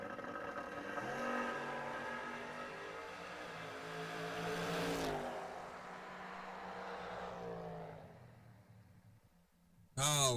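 Drag race cars, among them Carl Hardy's Camaro, roar loudly and steadily as they launch and pull down the strip, their engine pitch climbing and then fading as they run away into the distance, with a sharp burst of noise at the very end.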